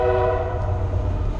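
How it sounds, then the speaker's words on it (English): A train horn blows in one long, steady, loud blast, heard outdoors with a faint low rumble of the rail traffic underneath and no talking. "Oh, you hear it? Can you hear it? Can you hear it?"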